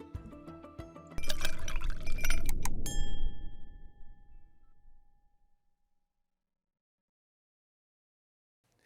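Glasses clink together in a toast, a bright cluster of impacts ringing out and decaying over a few seconds into silence.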